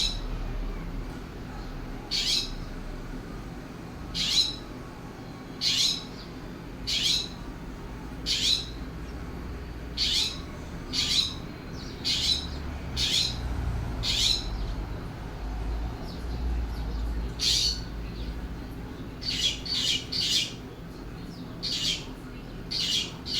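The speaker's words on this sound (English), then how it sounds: "I always fill up with water because any birds can stop by" Wild birds visiting a backyard water bowl in California give repeated short squawking calls, about a dozen bursts spaced a second or two apart over a steady outdoor background.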